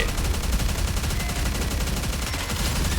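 Rapid, dense automatic gunfire from Red Hood in the video game NIKKE, loud and continuous for a few seconds with no pauses.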